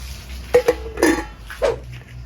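A metal pot lid is set down and closed on a cooking pot of boiling vegetables, shallots and chili, giving a few sharp clinks followed by a louder clattering knock and one more clink, close by, with no talk.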